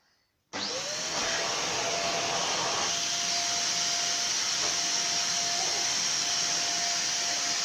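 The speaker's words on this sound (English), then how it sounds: "You want to bring your hoover in now?" A Hoover vacuum cleaner switches on after a brief quiet moment and runs with a loud, steady motor roar and a faint whine for the rest of the stretch, nearby and uninterrupted.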